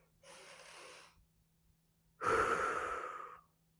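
A slow, deep breath taken during a guided visualization exercise: a soft, airy inhale, a pause, then a louder and longer exhale. Both are close and clear, with no talking.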